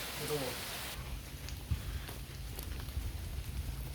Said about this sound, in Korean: 아, 갑자기 비가 이렇게 많이 와버리냐고